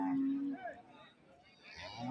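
A cow gives a low, drawn-out moo up close at a cattle and buffalo market in Tamil Nadu during light drizzle, followed by quieter livestock sounds and a second moo starting at the end.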